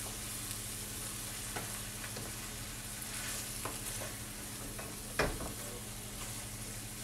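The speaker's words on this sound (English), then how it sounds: "My Polishes are boiling with the 2 chicken bouillon cubes in it." Polish sausages simmer in a pot of water seasoned with two chicken bouillon cubes, giving a steady soft bubbling hiss with a few brief clinks, faint and without talk.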